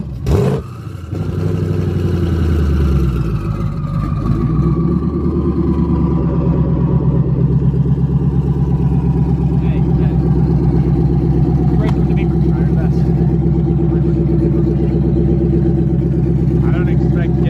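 A 1000HP Ford Mustang engine cranks with a brief whir, catches and settles into a loud, steady, lumpy idle that rumbles on close by for the rest of the stretch.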